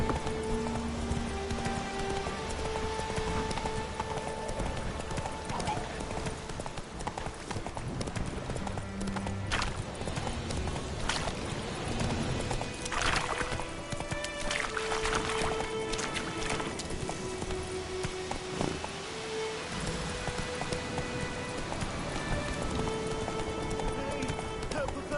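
Roach, Geralt's horse in The Witcher 3, gallops steadily for a long stretch with clear, rhythmic hoofbeats under game music, close and unbroken throughout.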